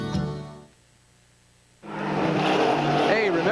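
Trans Am race car at the 1991 Dallas SCCA street race in Addison, a brief engine note, a short near-silent gap, then a loud sustained high-revving roar with shifting pitch, with a commentator's voice over it.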